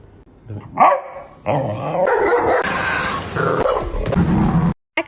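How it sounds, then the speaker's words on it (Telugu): A dog barks and yips excitedly at close range, mixing sharp barks with whiny, growling vocalizations in a continuous noisy burst. "కుక్కలు కేవలం పది నుంచి పన్నెండు రకాల శబ్దాలు చేస్తాయి"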